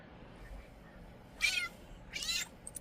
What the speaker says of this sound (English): I disturbed the kitty cat.